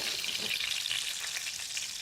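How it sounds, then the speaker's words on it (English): Fish sizzles steadily in hot oil in a kitchen pan, a close, continuous crackling hiss with no pauses and no voices. "There's a lot of sizzling going on there."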